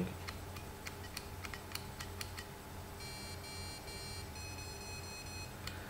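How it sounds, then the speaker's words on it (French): Faint electronic beeps from a vape mod: three short tones followed by five, signalling a 3.5-volt setting, over quiet ticking clicks and a low background hum. "on a entendu 3 bips puis 5"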